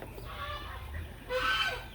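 Broody hens and a broody turkey clucking close by in a poultry pen, a soft continuous murmur of clucks with a louder burst toward the end.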